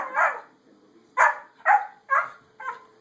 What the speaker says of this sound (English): He's the best dog I've ever owned, Tucson.